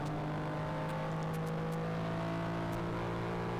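Porsche Cayman 979 race car engine droning steadily from onboard on a straight during a VLN endurance race, a loud, continuous tonal hum with constant pitch and no pauses.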